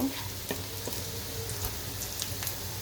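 Chopped garlic fries in hot oil for a special haleem, giving a soft, steady sizzle with scattered light crackles and pops, close by and with no talking.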